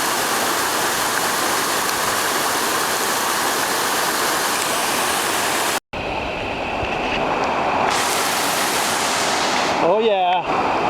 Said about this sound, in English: about 100 feet up from the waterfall, we're gonna cross to the south side of the creek here